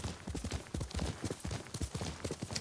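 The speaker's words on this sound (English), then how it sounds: "Let's call my horse back. There we go, that's my horse." Horse hooves clip-clop in the video game Ghost of Tsushima, a brisk, close, continuous run of hoofbeats in an uneven galloping rhythm, with no talking.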